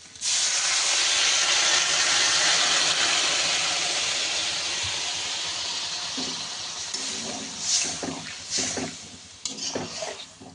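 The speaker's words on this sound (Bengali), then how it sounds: "এবার এর মধ্যে দিয়ে দেবো জল" Water poured into a hot pan of frying pointed gourd and prawns bursts into a loud, close hiss of steam that slowly fades, followed by a few clattering stirs of a spoon.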